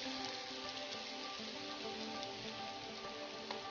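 Finely chopped onion, about half a cup, frying with garlic in a pan, giving a steady, even sizzling hiss, quiet and unbroken throughout.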